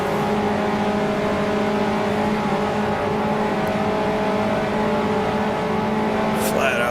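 A race car runs flat out in fifth gear toward Blanchimont, its engine a sustained, steady, high-pitched whine at constant revs, loud and close throughout.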